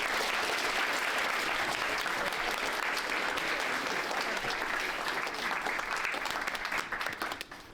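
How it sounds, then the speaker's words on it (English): A hackathon crowd gives a sustained round of applause, dense steady clapping from many hands that tapers slightly at the end. "Could you guys please give them a huge round of applause?"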